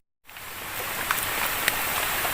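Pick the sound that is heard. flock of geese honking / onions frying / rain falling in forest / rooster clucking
rain falling in forest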